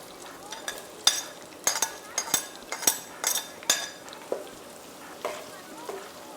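Onions frying in palm oil with iru, a soft sizzle broken by a run of sharp utensil clinks and scrapes against the pot.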